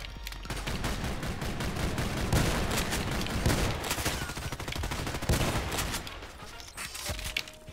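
Spas-12 shotgun fired in the online shooter Contract Wars, with dense, loud overlapping gunfire and blasts running throughout amid a busy battle soundscape.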